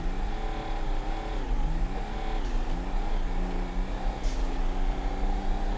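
A compound turbo diesel Chevy Suburban on a drag run in GTA 5, its engine note climbing steadily, dipping at a gear change, then rising again, loud and continuous throughout.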